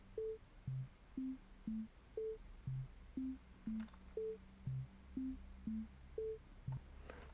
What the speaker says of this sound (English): So we can hear the notes playing